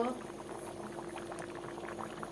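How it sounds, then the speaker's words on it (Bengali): Mutton curry bubbles at a low, steady simmer in a pot, a soft continuous burble of popping bubbles heard close and faint. "দেখো আমার মটনটা উত্তরাণ উঠে গেল"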